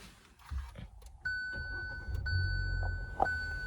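A 2024 Hyundai i20 Asta petrol car starts up: a chime rings out, then a soft, steady low rumble settles in as the smooth engine idles quietly, close by.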